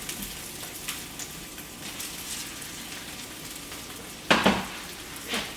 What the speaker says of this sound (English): first we're gonna go in with our potatoes. And let those cook